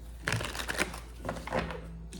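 Tarot cards shuffled by hand in a series of crisp riffling bursts and soft flicks, close up over a steady low hum, with no voices.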